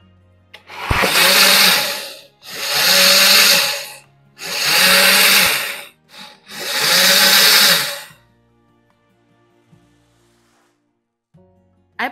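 A kitchen blender whirs loudly in four separate bursts of about one and a half seconds each, blending condensed milk, Guinness and gin for pumpkin punch, then falls quiet with faint clinks.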